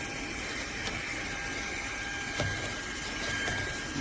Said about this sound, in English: The vacuum is doing what it's supposed to.